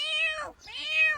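A person mimics a cat with two close, clear meows, the first falling away before a short gap and the second rising and holding, with no other sound around them.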